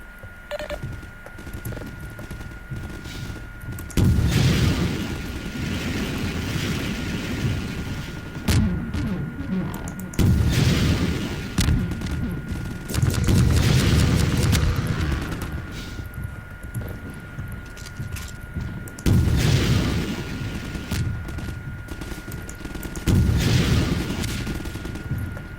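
Repeated rocket blasts in Half-Life 2 come in loud bursts every few seconds, each heavy boom rolling into a sustained rumble over a constant game background.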